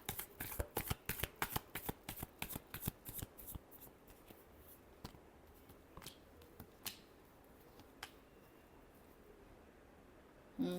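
Tarot cards shuffled by hand: a quick run of crisp riffling flicks for the first few seconds, then sparser soft taps and slides, close and quiet with no talking.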